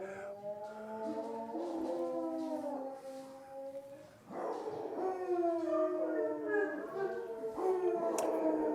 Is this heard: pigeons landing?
no